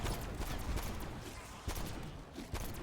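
Six Shooter revolver fire in Cold War Zombies, rapid loud game gunshots crackling over dense battle noise, with sharper reports standing out near the middle and end.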